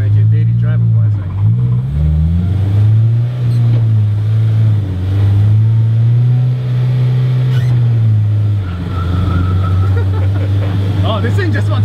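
An S2000-engined AE86 Corolla drives with a loud, close engine drone that rises and falls as the revs shift, nearly constant, with a voice talking over it.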